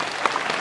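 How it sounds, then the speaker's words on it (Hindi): Brief burst of hand clapping from an audience welcoming guests at a school function, a short dense patter with a sharp clap standing out. "एक बार तालियां बजाएं।"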